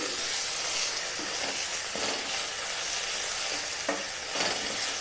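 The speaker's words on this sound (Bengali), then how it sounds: "এর মধ্যে আমি দিয়ে দেব একশো গ্রামের মতো চিকেন কিমা এটাও আমি একটু নেড়ে চেড়ে নিচ্ছি" About a hundred grams of chicken mince stir-fries with ginger and garlic for a Mughlai paratha filling. A loud, continuous sizzle is broken by repeated scraping strokes of a spatula across the pan.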